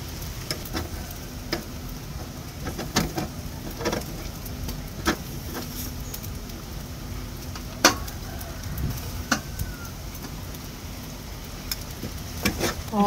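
Fish grilling aboard a boat gives off faint crackling and sizzling with scattered sharp ticks and pops, set against a soft wash of light rain.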